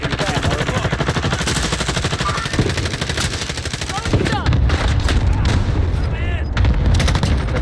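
Rapid automatic gunfire in a video game, dense continuous bursts with heavier booming shots partway through, loud and close.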